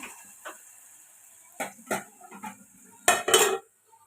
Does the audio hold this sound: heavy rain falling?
no